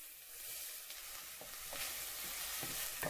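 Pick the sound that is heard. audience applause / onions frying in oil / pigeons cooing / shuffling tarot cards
onions frying in oil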